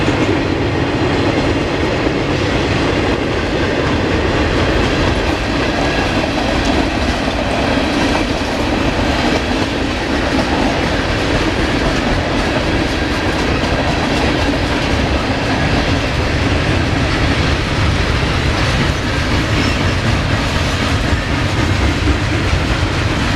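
A northbound Norfolk Southern mixed freight train passes close at Cooke Road in Columbus, Ohio, a loud, steady roar of rolling cars with continuous clattering wheels and no pauses throughout.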